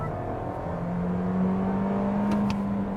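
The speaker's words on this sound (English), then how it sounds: "Jacob, I'm gonna downshift and pass." Engine of a 2022 Toyota Corolla with a CVT simulating gears, droning steadily and rising in pitch as it downshifts and accelerates to pass, heard from inside the cabin as a continuous near hum.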